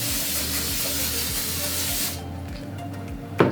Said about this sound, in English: So I'm just spraying it on.